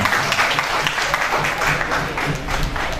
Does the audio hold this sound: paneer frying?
no